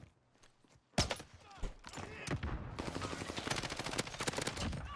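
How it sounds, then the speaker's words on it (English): Gunfire in a shooter video game: a sharp shot lands after a quiet start, then a dense stream of rapid, close, crackling shots and impacts fills the rest of the clip, with faint game noise underneath. "Is he shooting me with a pistol?"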